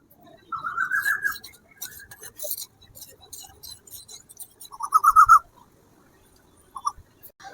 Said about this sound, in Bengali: এত ডাকছে কেন পাখিগুলো?